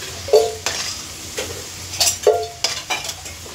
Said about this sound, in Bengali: তো চলুন আলুটা ভাজা হোক।